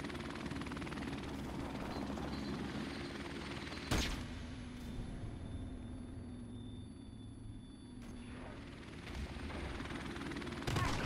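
Helicopter in a first-person shooter video game, a continuous low rotor rumble throughout with a few sharp bursts of distant gunfire.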